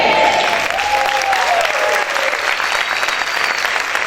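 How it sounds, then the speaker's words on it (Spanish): A church congregation applauding loudly and steadily, dense clapping from many hands with a voice faintly sliding over it. "Ese aplauso es para el Señor, déselo fuerte."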